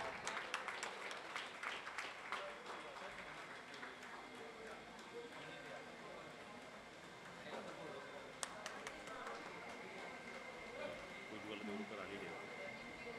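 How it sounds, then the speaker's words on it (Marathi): A crowd claps steadily and densely for the whole stretch at an honoring ceremony during a school reunion, with voices murmuring underneath the applause. "जरा जोराच्या टाळ्या येऊ द्या"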